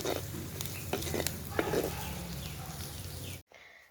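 Young pirandai (adamant creeper) stems sizzle and fry in a pan while being stirred and sautéed. The frying hiss is soft and steady, with occasional scraping taps from stirring, and it stops abruptly just before the end.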